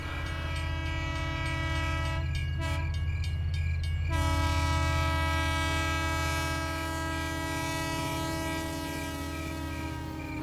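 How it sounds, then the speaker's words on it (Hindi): A passenger train pulls out of a station, its horn sounding in steady sustained tones over a low rumbling hum of the cars, with a brief noisy burst midway. "जैसे ही वो उतरा 10 या 20 सेकंड में ट्रेन वहाँ से चली गई"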